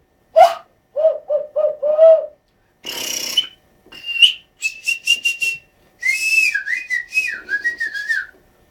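A person whistles a tune by blowing through the lips, close to the microphone, in short phrases with brief pauses, some notes quick and repeated, others sliding and held, with no other sound around them.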